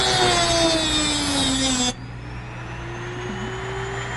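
A Dremel rotary tool cuts into a PowerBook laptop case with a loud, high, steady whine and gritty grinding. The pitch drops and the sound softens partway through as the bit bites in, and nobody speaks.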